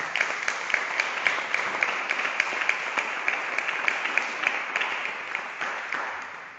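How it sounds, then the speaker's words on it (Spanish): An audience at a book presentation about invasive species applauds a biologist, a steady, moderately distant patter of many hands clapping with individual claps popping out, sustained for several seconds without speech. "ahora un fuerte aplauso para el biólogo Ángel León Panal"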